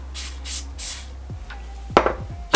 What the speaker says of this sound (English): for these, I'm just gonna spray